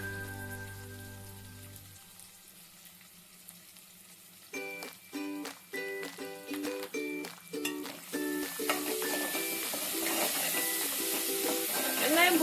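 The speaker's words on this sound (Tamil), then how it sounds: "வெங்காயம் போட்டு நல்லா வதங்கிட்டோம்." Sliced onions sizzle and crackle in a hot pan while being sautéed for moong dal gravy, a soft steady frying hiss under quiet music, with faint spatula scrapes as they are stirred.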